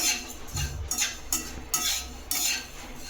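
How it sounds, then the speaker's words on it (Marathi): Oats roasting and being stirred in a wok, with repeated scraping strokes of a utensil against the pan in an uneven rhythm, close and moderately loud with no talk. "आता कढईमध्ये ओट्स टाकून घेऊया आणि त्यालाही रोस्ट करून घेऊया"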